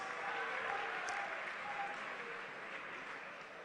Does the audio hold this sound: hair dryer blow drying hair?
no